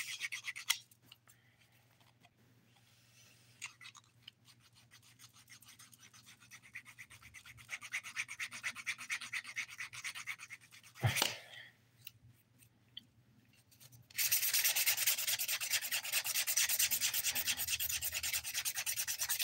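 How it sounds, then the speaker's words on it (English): A nail file rasps across a ring fingernail during a dip-powder manicure, giving close, dry scratchy strokes in fast repeated bursts that grow louder and denser toward the end. "I'll move over to the ring finger and start filing this one"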